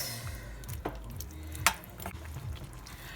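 A spoon stirs a brown stew snapper sauce with a touch of ketchup in a pot, making faint wet scraping and bubbling sounds with a small clack near the middle.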